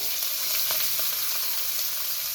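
Chopped onion, coriander stems and chilies hit a hot mustard seed tempering in oil, giving a loud, continuous close sizzle with a few crackles and light stirring, no voices.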